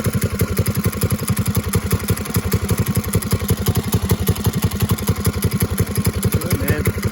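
A 1970 Bird minibike's small engine runs close by after a carburetor jet change, firing in a fast, even, rhythmic putter that stays loud and steady throughout.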